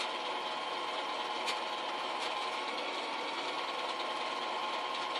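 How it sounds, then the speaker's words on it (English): Sewing machine stitching around a petal shape on a summer quilt, a steady fast whirring hum with faint ticks, quiet and close, running continuously with no voices. "And we're going to put it in, sew it all the way around."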